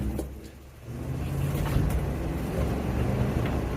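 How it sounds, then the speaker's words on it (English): Ford Bronco pulling away hard and shifting up through its gears, a steady low engine drone that swells and holds fairly loud, with no talk over it. "we'll give it a very aggressive takeoff and see how it shifts through"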